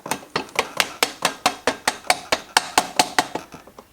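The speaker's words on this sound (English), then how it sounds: "help of a rubber mallet is needed here just to help align things up a little bit" A rubber mallet taps a Honda Monkey front axle into place with about seventeen sharp, evenly spaced knocks, close and clear, with no talking.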